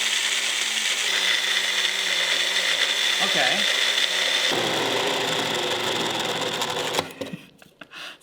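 A small grinder strains as it pulverizes cocoa beans into powder for chocolate, a loud continuous whine with shifting pitch that cuts off near the end, followed by a brief spoken word.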